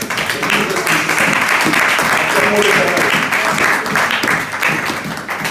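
A church congregation at a Sunday service breaks into sustained applause, a steady dense clapping that lasts throughout and fades slightly at the end, with voices heard alongside.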